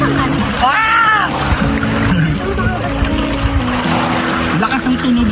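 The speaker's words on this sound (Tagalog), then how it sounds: "Lakas ang tunog ng bato." Strong waves roll stones along a beach at Lobo, Batangas, a loud, constant rushing wash with rattling pebbles, while people talk and exclaim over it.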